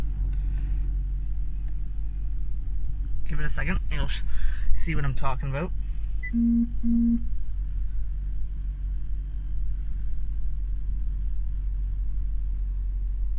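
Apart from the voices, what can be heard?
Honda car engine starting and running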